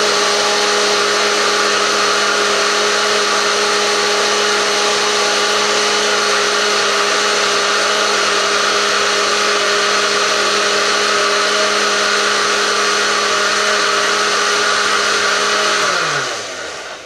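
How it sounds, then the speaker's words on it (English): Blender pureeing cooked chilies with their liquid for pork tamales, a loud steady motor whir running continuously for about sixteen seconds before spinning down at the end, with no talking. "put it into a blender and puree it all up"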